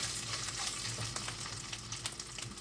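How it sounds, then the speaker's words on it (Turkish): Mashed boiled potatoes frying in a little oil for a potato filling, a continuous close sizzle broken by repeated stirring scrapes and light taps of the utensil against the pan. "Şimdi patatesini kavuralım"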